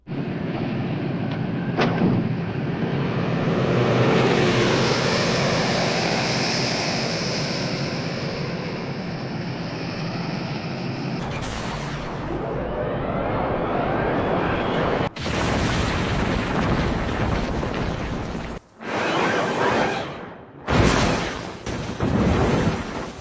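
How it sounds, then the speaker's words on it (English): Film-style bunker buster bomb strikes dropped by US Air Force B-2 bombers: a sustained, loud roaring rumble of blasts and fire that swells, then breaks into abrupt heavy explosive bursts with short gaps. "it has been decided that U.S. Air Force B-2 bombers will destroy the targets using bunker busters"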